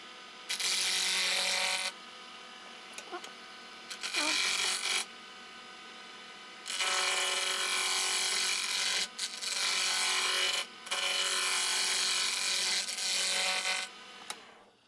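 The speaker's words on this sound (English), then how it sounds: "So now I'm using a carbide tool." Round carbide tool cutting wood on a lathe while turning an inside-out Christmas tree ornament, giving long steady hissing scraping passes that stop and start with brief gaps, close and fairly loud.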